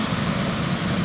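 A Boeing 747 at Anchorage airport gives off a steady, deep engine drone for about a second, with no break and no voices.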